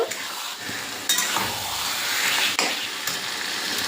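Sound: sautéing biryani spices with salt in a pan

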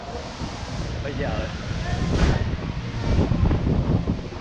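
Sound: strong sea wind on a yacht

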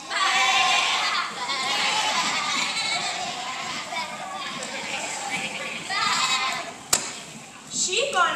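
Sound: actors imitating sheep and goat bleats in Godspell

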